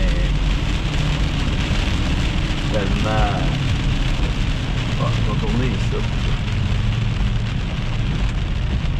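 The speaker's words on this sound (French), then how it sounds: "on va affronter l'orage en même temps" Heavy rain drums steadily on a car during a thunderstorm while someone talks briefly inside, the dense wash of drops continuous and loud throughout.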